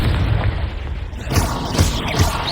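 Confringo, a blasting spell in the video game Hogwarts Legacy, goes off as a loud, close explosive boom, followed by rumbling bursts and crackling debris over a couple of seconds.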